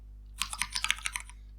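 Typing on a real keyboard set to play a Cherry MX Brown switch sound gives around nine crisp, close clacks in a quick uneven burst over a low steady hum, with no talking.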